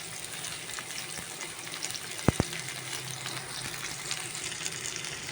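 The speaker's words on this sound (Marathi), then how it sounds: "पयलो हांव हो कांदो भाजून घेता." Onion fries in oil in a Goan home kitchen, a soft, steady sizzle throughout with two sharp clicks near the middle.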